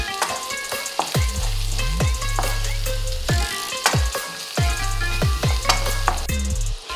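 Chopped white parts of spring onion sauté in a pan under a steady sizzle, with repeated rhythmic metallic scrapes and rattles of a utensil against the pan throughout.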